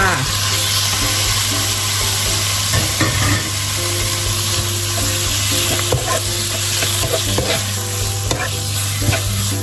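Pork stir-fried with Thai red curry paste in a hot pan, a loud steady sizzle with scraping stir strokes throughout and a constant background hum, no talking.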